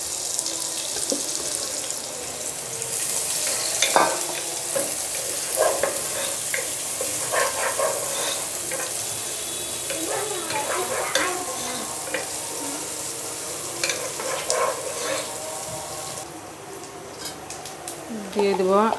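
Onions fry in oil with bay leaf, cinnamon and cardamom for pulao, a continuous sizzle broken by irregular scraping and clattering strokes as the pan is stirred, with a brief splash of water near the end.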